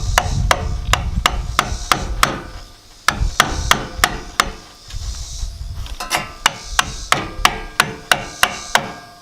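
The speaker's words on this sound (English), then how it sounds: "we're gonna drive a screwdriver into the back of this oil filter, and that'll give us leverage to take that thing off" A Phillips screwdriver driven with a hammer through a boat engine's oil filter makes a steady series of loud, close metallic hammer blows in quick rhythm, broken by one short pause.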